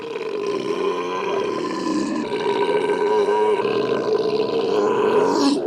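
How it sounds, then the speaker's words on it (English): A loud burp in a burping contest: one long, rumbling belch that holds steady for almost six seconds, raw and throaty with no pause. "Booger faces Ogre and the loudest burp wins"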